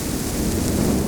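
Late-night thunderstorm in Chuadanga, Bangladesh: a deep, rolling rumble of thunder over steady rain pattering on surfaces and gusty wind, dense and loud with no voices.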